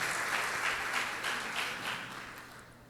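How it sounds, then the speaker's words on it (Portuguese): Church congregation at an Easter Sunday service claps in praise, a soft, steady patter of many hands heard at a distance, continuous throughout. "Aplauda esse Deus maravilhoso."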